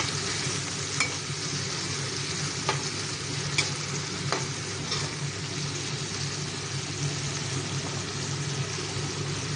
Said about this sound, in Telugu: తగినంత ఉప్పు వేసుకోవాలి. వేసి బాగా కలుపుకోవాలి.